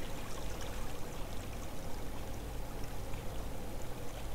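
Steady rushing of flowing water in the blocky sandbox game Minetest, a continuous even wash at constant loudness with no voices over it.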